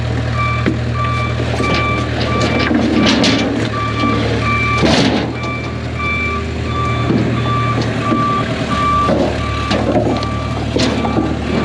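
A truck backing up, its reversing beeps repeating in a steady, regular rhythm over a low idling engine rumble, with a brief loud clatter midway.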